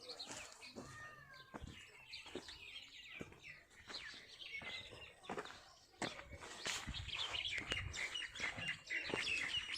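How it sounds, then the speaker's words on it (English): Birds chirp and sing along a Himalayan trek in Uttarakhand, with scattered tweets and trills, soft wing flutters and quiet footsteps, faint and slightly distant. "You can hear the bird songs."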